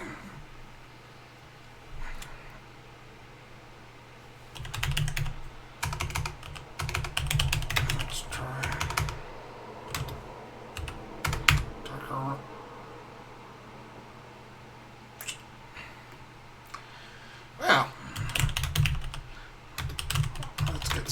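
Typing on a computer keyboard while coding a chatbot, heard as irregular bursts of close key clicks over a steady background hum, with pauses between runs of keystrokes.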